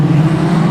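Production sedan race cars at Kingaroy Speedway, a brief loud, steady engine drone close by with no talk.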